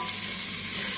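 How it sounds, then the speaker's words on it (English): Onions fry in a pan while being stirred with a wooden spoon, a steady, loud sizzle filling the whole moment with no voices. "So we're frying our onions to start with."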